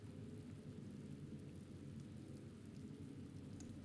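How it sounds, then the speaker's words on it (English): Rain falls outside while the player is indoors in the video game The Black Mirror, heard as a faint, muffled, steady low rumble with a soft continuous wash and no voices. "I like that you can hear the rain in here."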